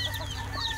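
Young chicks cluck and peep in a very short burst of close, busy calls, with no voices heard.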